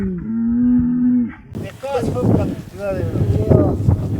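Fighting bulls being herded toward a corral in the San Damián highlands: one long, deep, drawn-out moo, then rough wind buffeting with further animal sounds and faint voices.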